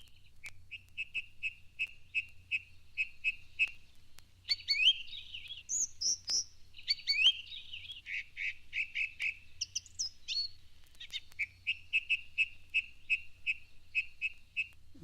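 Song thrush singing with short repeated phrases of bright whistles and chirps, each motif given in quick succession, steady and fairly close against a low background rumble.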